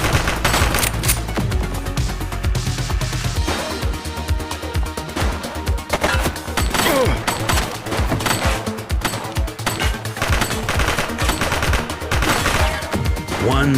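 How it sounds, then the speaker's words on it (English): Sustained rapid gunfire in the police video game The Precinct, loud bursts of machine-gun and pistol shots rattling steadily across the whole stretch, with some voices underneath. "She's shooting!"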